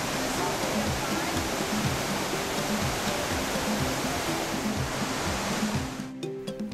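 Victoria Falls on the Zambezi River at the Zimbabwe–Zambia border sends up a loud, steady roar of falling water with a voice speaking over it, the roar dropping away near the end.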